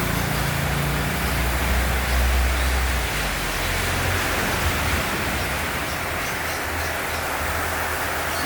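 Steady, dense hiss of rain falling on a calm, windless overcast June afternoon around a garden of plants, continuous and even throughout with a faint low rumble underneath and no talking.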